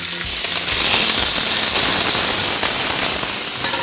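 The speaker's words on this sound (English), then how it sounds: "We're gonna take our cast iron pan here, and I'm gonna cook my chicken." Steady, loud broadband sizzle of chicken frying in a hot cast iron pan, a constant hiss and crackle running throughout with no talking.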